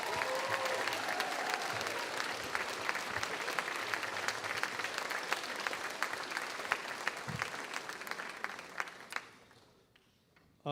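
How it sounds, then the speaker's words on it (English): Sustained applause from an audience at an Envirothon closing ceremony at Mississippi State University, a steady dense wash of clapping that fades out near the end. "Let's give the judges a round of applause,"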